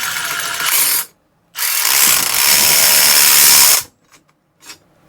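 A Milwaukee Shockwave impact-duty 3/8" threaded rod nut runner spins a nut up the rod until it is tight, giving a loud, close, continuous whir in two runs separated by a short gap, ending with faint knocks.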